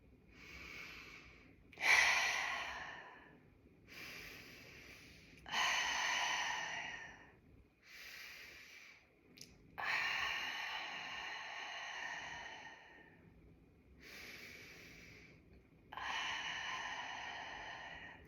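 Slow, deep breathing exercises: long inhales and exhales come close to the microphone, each a breathy rush separated by quiet pauses, repeating about seven times.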